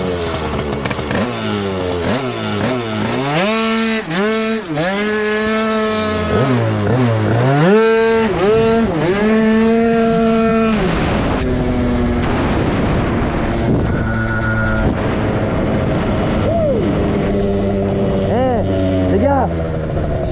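A tuned ten-year-old scooter pulls away from a standstill and screams loudly up close. The engine pitch climbs in repeated rising sweeps as it accelerates, then settles into a steadier buzzing whine.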